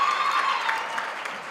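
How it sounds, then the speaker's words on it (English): An audience applauds at a university graduation ceremony, a dense steady wash of clapping from a large crowd filling the whole moment without any voices. "Can you applaud them?"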